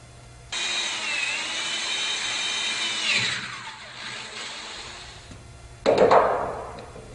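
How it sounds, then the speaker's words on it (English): A power drill boring holes in a 12-valve Cummins engine for boost cooler nozzles, with a steady whining run that winds down, then a short loud burst of drilling near the end. "we're going to be drilling on the back side, again perpendicular to the flow of air"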